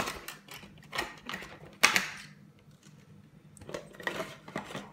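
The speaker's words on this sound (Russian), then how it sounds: "Открываем наборчик." A Pinypon winter house doll set is unwrapped, with close, quiet plastic crinkling, clicks and tapping that come in irregular bursts separated by short pauses.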